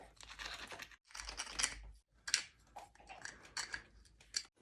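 Sandstone grinds a groove into a piece of antler in close, gritty scraping strokes, several separate bursts with short pauses between them.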